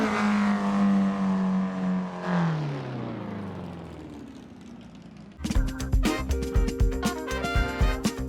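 A Lancia Fulvia rally car in a racing game, its engine note dropping as it decelerates after crossing the finish line, then a sharp, busy burst of mechanical sound and revving.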